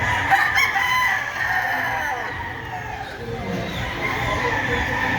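A pumpkin hatch rooster crows loudly and close at a hobby expo and pet convention, one drawn-out call followed by clucking amid crowd murmur.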